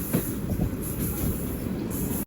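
A passenger train on the Tirupati to Villupuram line slows into a station, with a steady rumble of wheels and carriages heard from onboard and a faint squeal above it.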